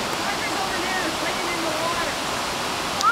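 Bridal Falls near Agassiz and Harrison, British Columbia, roars as a steady, loud broadband rush of falling water close by, with no break throughout.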